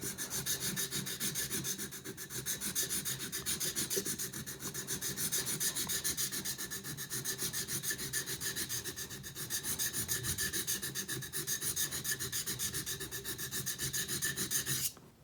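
A wood carving chisel is hand-sharpened on a whetstone, mostly at the tip, giving a steady, fast rasping scrape of quick back-and-forth strokes that runs unbroken and close, with no talking.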